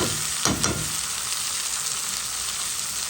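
Tomato mixture with brinjal sizzling in a pan, a soft, even frying hiss with a couple of brief stirring scrapes early on, close and steady.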